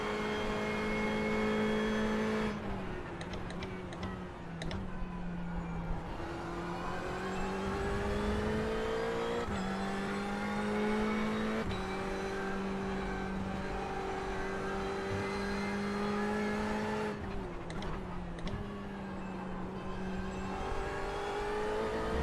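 LMP prototype race cars in an iRacing IMSA race at Road America, engines droning and rising in pitch through long accelerations, with gear changes and shifts in the note. The sound is loud and close and heard alone.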